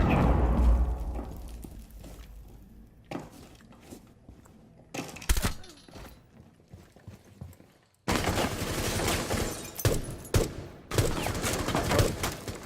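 Gunfire in the console shooter Rainbow Six Siege: loud bursts and clustered shots, with a heavy opening volley fading into sparse cracks, then dense, sustained shooting in the final stretch.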